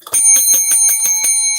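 A bell sound effect ringing in a quick, even series of about seven bright metallic strikes with sustained high tones, loud and close with no voices.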